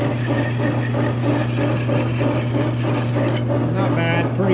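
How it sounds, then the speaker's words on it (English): A lathe runs steadily with a low, even motor hum and a faint, regular rough undertone that pulses through the spin, loud and alone. "Basically, kick the lathe on. You can probably hear there's a little bit of roughness in there"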